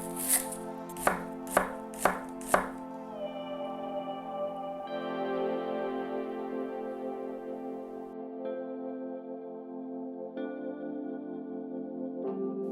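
Four sharp, evenly spaced knife chops cut through a McRib-style pizza at close range, then give way to sustained tonal music with no talking.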